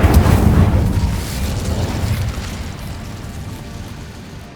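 An Incendio fire spell is cast in Hogwarts Legacy, setting off a loud, deep whooshing burst like an explosion that rumbles and then slowly dies away.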